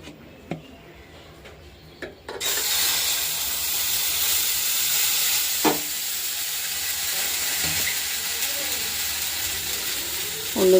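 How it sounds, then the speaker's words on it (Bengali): Thin sweetened batter flatbread poured onto a hot pan, starting with a few quiet clinks before a sudden loud hissing sizzle that holds steady, with occasional scrapes. "চিনি দিয়ে জল রুটি করে নিচ্ছি"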